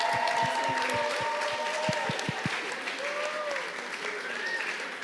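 Audience applause after a talk on language, a steady wash of clapping from a crowd with a few voices and whistles mixed in, sustained at an even level throughout.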